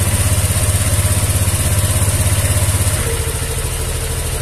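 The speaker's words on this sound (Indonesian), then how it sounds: "hidupkan motornya" A Honda Vario 125/150 scooter with a starter and charging fault idles loudly and close by, a fast steady putter that eases slightly lower near the end, with no talking.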